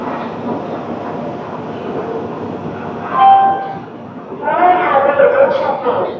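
Rajdhani Express pulling out of Asansol Junction station, heard from inside a first-class AC coach as a steady rolling rumble with faint squeals and a brief tonal horn, while voices talk over it.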